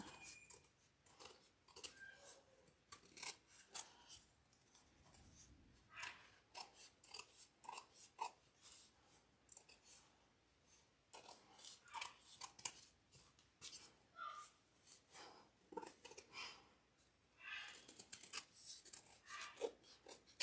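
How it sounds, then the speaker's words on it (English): Close, quiet scissors snip steadily around a no-sew DIY Christmas wreath attachment piece, with rapid, repeated crisp cuts and brief pauses in between. "Now we just go and very quickly cut around it."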